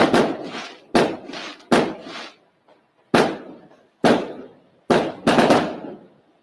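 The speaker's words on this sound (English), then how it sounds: "That does sound like fireworks." Fireworks go off in a run of about seven loud, sharp bangs, each trailing off into a short crackling decay, with uneven gaps between them.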